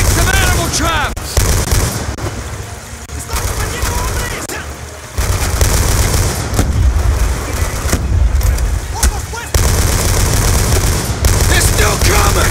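Automatic weapon fire rattles in heavy bursts during a Call of Duty Black Ops 2 battle, loud and dense, broken by short pauses and mixed with shouted voices and battle noise.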